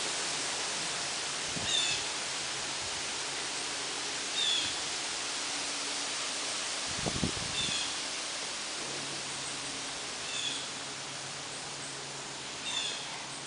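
Steady broadband wind rushing through aspen and oak leaves in a Wisconsin woodland, a soft continuous rustle with occasional faint gusts and distant chirps; no voices.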